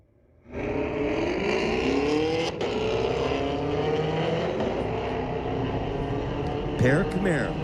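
A pair of Camaros drag racing at Mission Raceway Park, engines bursting to a loud sustained roar with climbing gear pulls, a brief thump midway and another rev surge near the end, an announcer talking over it.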